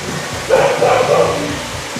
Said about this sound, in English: So that was a puppy that barked.